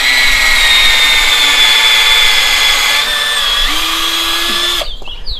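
A power drill drives a countersink bit into damp wood outdoors, a loud sustained high whine that shifts pitch as it bites, then cuts off abruptly near the end.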